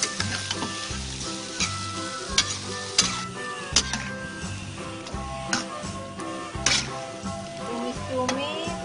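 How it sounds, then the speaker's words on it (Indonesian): Squid stir-fried in a pan: constant hiss of sizzling with rhythmic scraping and clinking of the spatula stirring through the pieces, fairly close and steady, with faint kitchen noise behind. "Masukkan cuminya. Kita aduk, taruh di kemur."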